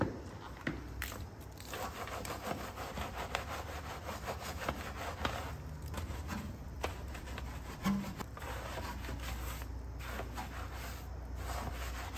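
Brush scrubbing a wheel on a ceramic coated car during a maintenance wash, continuous quiet rubbing and scraping with irregular strokes, close but faint, no talking.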